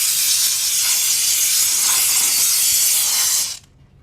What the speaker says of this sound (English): You want to be careful not to get the steam on your hands.